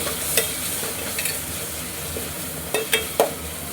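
Food sizzles steadily in a hot pan, with a few sharp scraping clicks from stirring breaking through the constant frying hiss.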